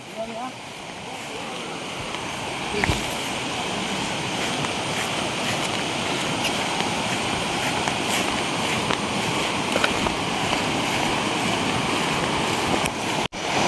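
A river reached on foot in a rural area, its water giving a steady broadband rush that stays level throughout, with wind buffeting the microphone and a brief sharp knock near the end.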